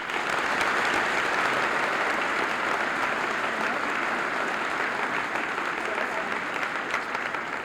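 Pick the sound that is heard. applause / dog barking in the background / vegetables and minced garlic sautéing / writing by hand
applause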